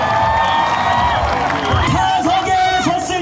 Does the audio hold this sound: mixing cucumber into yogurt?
no